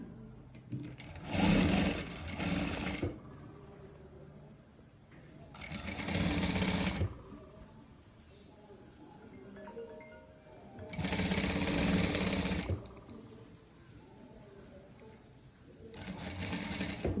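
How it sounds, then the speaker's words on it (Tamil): A sewing machine stitches the sleeve of a model gown in four separate runs, each a close, loud whirring burst of a second or two, with quiet pauses between them. "இங்கேருந்து நான் கையை தைக்கிறேன்"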